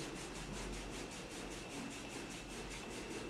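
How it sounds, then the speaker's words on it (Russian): Hands rapidly rub back and forth over the neck and shoulders in a sawing massage stroke on the collar region, producing a faint, steady, rhythmic swishing with no voices. "Сейчас выполняется прием встречное пиление."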